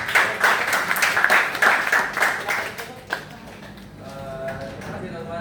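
Group applause in a classroom after a student group finishes presenting, a dense burst of many hands clapping that fades after about three seconds into quieter room noise.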